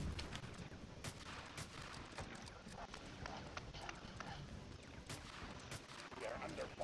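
Video game gunfire crackles in rapid, irregular volleys as a steady barrage of sharp shots, a distant-sounding firefight underneath with a voice talking over parts of it.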